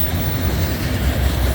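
A manifest freight train rolls past on the railroad, a loud, close, continuous rumble of wheels and cars with no voices.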